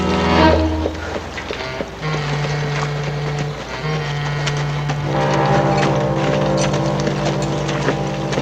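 A cavalry horse's hooves clip-clop at a steady pace in a film scene, set against sustained droning tones. The hoofbeats come moderately close and fairly loud and continue for the whole stretch.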